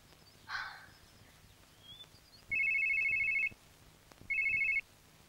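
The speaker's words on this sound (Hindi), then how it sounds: "निनी को फोन लगाती हूं." A telephone rings on an outgoing call, heard as two faint, electronic ring tones at an even interval with a brief soft noise before them.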